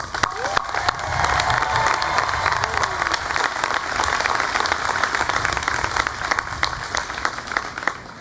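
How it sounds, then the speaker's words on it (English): Loud, sustained applause from a large convocation audience at Longwood University for the class of 2015, with clapping mixed with cheers and shouts throughout. "I think we ought to give a first lusty round of applause to the great class of 2015."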